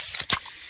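A fizzy Pepsi being freshly opened gives one short, sharp hiss of escaping gas, close and loud, that fades into a quieter fizz.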